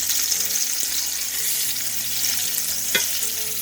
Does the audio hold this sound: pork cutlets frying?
yes